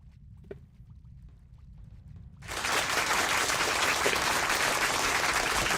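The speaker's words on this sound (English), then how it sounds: "Thank you for the applause, sir." After a quiet stretch with a few faint ticks, an applause sound effect bursts in suddenly during a Warcraft 3 stream. It continues as a loud, even wash of clapping until the end.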